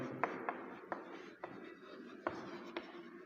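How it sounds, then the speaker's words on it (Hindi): A pen writes a definition by hand on paper, making faint scratchy strokes with soft taps every half second or so against low room noise, and no talk. "तो इसका हम डिफिनीशन लिखेंगे"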